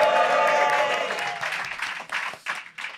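Live audience clapping at a show at De Pomp in Hoven, a dense burst of applause that thins out into scattered, fading claps over a few seconds.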